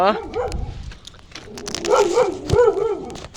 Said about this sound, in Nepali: कस्तो डरको कुकुर खुल्दै रहेछ